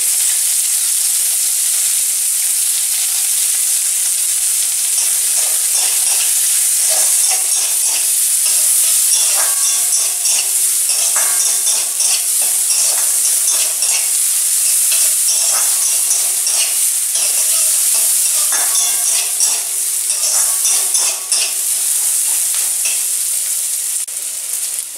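Garlic paste frying in a pan for a small-fish curry, a loud, bright, continuous sizzle with rhythmic stirring scrapes throughout, close and with no talk.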